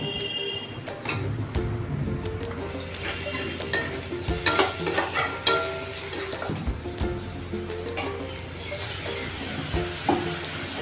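A spatula stirs fish curry masala with turmeric, salt and tomato for a mourala fish jhal chorchori, frying in a pan. A constant close sizzle runs underneath irregular scraping and clattering strokes throughout.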